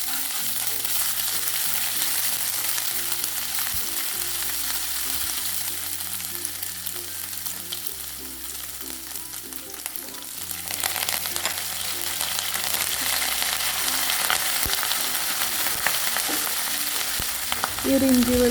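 Ginger and garlic paste with curry leaves fries in hot oil for a crab fry, giving a steady loud sizzle with some stirring, no voices.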